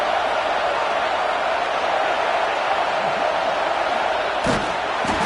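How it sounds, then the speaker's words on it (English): A home crowd roaring at a college football game at Neyland Stadium, a loud, steady wall of cheering that fills the whole stretch, with a couple of sharp thumps near the end. "this home crowd is fired up and ready to make a difference today"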